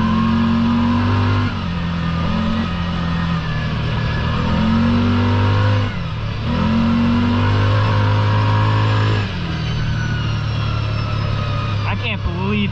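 A Kawasaki Teryx side-by-side fitted with 29.5 Outlaw tires drives through slippery ruts, its engine droning loudly and rising and falling with load as it churns through the mud, close throughout.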